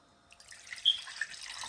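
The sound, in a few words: water poured into mixer jar to rinse out leftover masala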